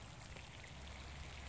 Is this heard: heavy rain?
yes